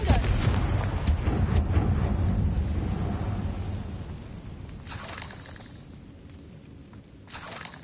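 A loud blast from the Confringo spell in Hogwarts Legacy booms right at the start and rumbles away over several seconds, with fainter crackling bursts trailing afterward.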